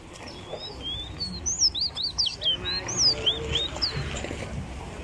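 Birds chirp and tweet outdoors at Mon Repos ground in Guyana, a lively string of short, bright, rising calls repeating over a steady low background rumble.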